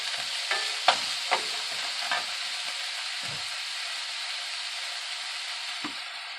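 Chicken pieces frying in a pan with a continuous moderate sizzle, punctuated by several scraping stirs of a utensil against the pan early on, then settling into an even hiss.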